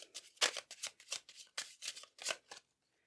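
Tarot cards are riffled in a series of quick, crisp bursts, about nine close, quiet shuffles in an uneven rhythm before falling silent.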